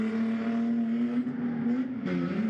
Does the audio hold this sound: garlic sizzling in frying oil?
no